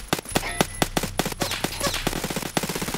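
Rapid bursts of automatic gunfire ring out in Escape From Tarkov, sharp repeated shots in quick strings with brief pauses, loud and close.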